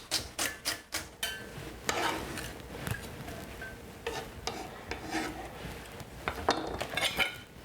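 Utensils clatter and scrape against a bowl while a celery salad is mixed, a close run of quick clinks and rubbing strokes with brief pauses between bursts.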